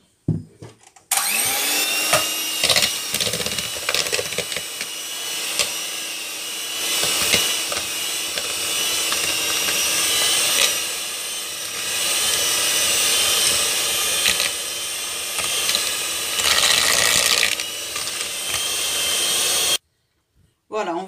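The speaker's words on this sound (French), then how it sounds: "On met le sucre et on va le battre au batteur électrique." An electric mixer beats soft butter and sugar for a golden cake with a steady, loud motor whine that runs nearly twenty seconds, then stops abruptly. Voices speak briefly over it.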